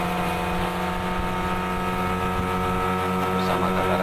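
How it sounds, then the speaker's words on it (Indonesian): A motorboat engine roars steadily as the boat speeds away from a fishing village jetty across Bintuni Bay toward Amutu Island, a loud continuous drone with wind and water rushing. "Cukup kencang juga guys perahu ini"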